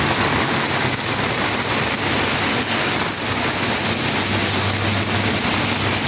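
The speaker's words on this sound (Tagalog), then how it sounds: "Tubig ulan talaga." Steady, heavy rain pours down in daytime, a dense continuous hiss of drops striking surfaces close by, with no voices and no breaks.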